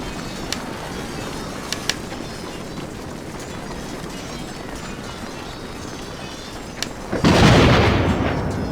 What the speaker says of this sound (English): we're gonna get thunder